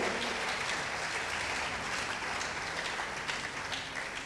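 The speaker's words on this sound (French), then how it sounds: "vous pouvez acclamer la parole de Dieu" A church congregation applauds and cheers: dense, steady clapping from many hands fills the room throughout, with scattered voices mixed in.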